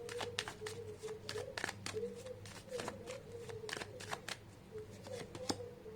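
Tarot cards being handled and shuffled for a clarifying draw, with rapid crisp flicks and riffles in quick bursts, close up, and no one speaking.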